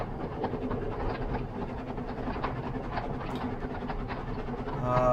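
A train in the 80 Days video game runs steadily on rails with a soft rhythmic clatter, fairly quiet and constant throughout, rising slightly at the end.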